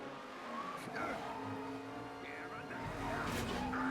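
Animated race cars from the film Cars roaring through a final lap, with engine drone and tire squeals rising near the end, heard amid crowd and soundtrack noise.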